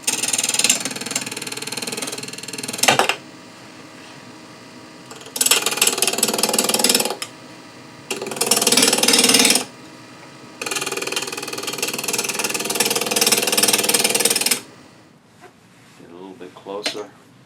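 A Laguna wood lathe spins at about 1200 rpm while a tool rides the bevel. A steady, close motor hum is broken by several loud bursts of cutting noise, with quieter gaps between them.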